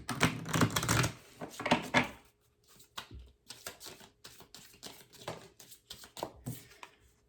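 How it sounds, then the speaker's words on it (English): Cards are pulled from a moon astrology tarot deck: brisk riffling and papery flicks at first, then softer scattered taps and slides of card stock, close up and quiet, with no one speaking. "Pull a couple cards here."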